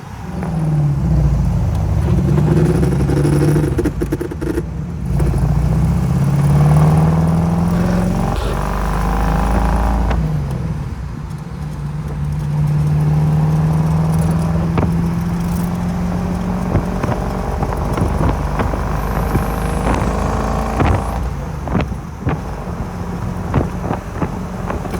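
A 1957 Corvette engine revs up and settles in repeated rising and falling waves, a loud low rumble mixed with wind buffeting on the microphone.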